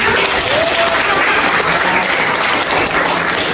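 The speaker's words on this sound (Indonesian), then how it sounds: "Tepuk tangan." A classroom of students applauds, a loud, steady wash of many hands clapping that lasts several seconds with faint voices mixed in.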